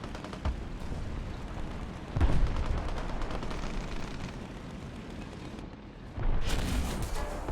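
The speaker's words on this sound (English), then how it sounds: "Especially with the confirmed machine gun fire off to my left." Machine gun fire in War Thunder comes as rapid bursts of sharp shots over a rumbling battlefield background, with a louder blast cluster partway through and another near the end.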